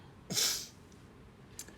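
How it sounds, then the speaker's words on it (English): One sharp, loud sneeze from a woman eating breakfast, a quick breathy burst close to the microphone, followed by quiet room tone and a faint sniff. "I'm fixing to sneeze"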